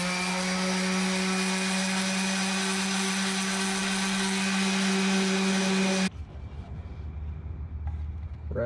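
Power sanding rounds off the edges of an ammo can being fitted as a Nintendo Switch case: a loud, steady whining drone for about six seconds, then it cuts off abruptly into quieter handling noise.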